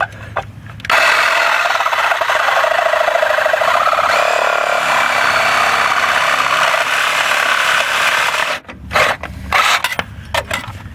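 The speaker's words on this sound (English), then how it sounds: "It's hard to get this sawzall in here with this battery on the back of it." Battery-powered reciprocating saw cutting through the 3-inch exhaust down pipe and heat shield on a 1996 Ford F350 7.3 PowerStroke, a loud steady buzzing rasp running for most of the clip before stopping and restarting in short bursts.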